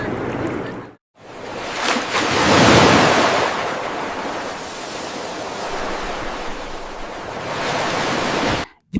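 Surf rolling in steadily on Nagaon Beach at Alibaug, a broad, continuous wash of waves with wind buffeting the microphone, swelling louder for a moment before settling, with no one speaking.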